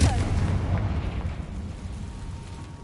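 The Confringo fire spell blasts off in Hogwarts Legacy with a loud booming burst right at the start, then fades into a rumbling tail over the following seconds.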